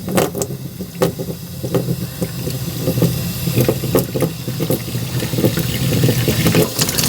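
Hot tap water runs steadily while a silkscreen is rinsed clean, a continuous close hiss and rush with occasional knocks and splashes throughout, no talking.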